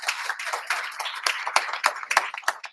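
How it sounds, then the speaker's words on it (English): Audience applause for Dr. Charles Olawole at a talk event on the Africa We Want: dense, steady clapping from many hands, fairly loud and close, with individual sharp claps standing out throughout. "Give him a round of applause."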